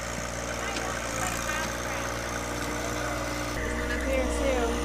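A John Deere 1025R compact tractor fitted with a heavy hitch toothbar, its engine droning steadily at close range with a low constant throb that shifts in pitch partway through.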